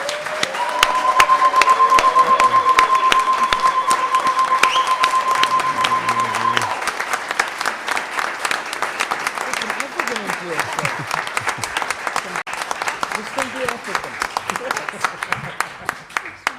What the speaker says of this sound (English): Could we just give a round of applause for all the present and absent speakers of 2010?